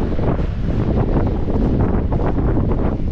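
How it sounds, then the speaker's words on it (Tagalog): Loud, steady wind roars across the microphone in heavy gusts, filling the whole moment without any voices. "Lakas, sumisipol yung hangin."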